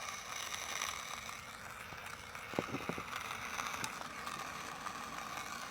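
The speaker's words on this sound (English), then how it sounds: "you can hear the beans being ground right now" A portable espresso maker grinds coffee beans inside a Honda Element: a steady, low mechanical grinding whir throughout, with a few brief clicks near the middle. It is fairly faint, with no voices.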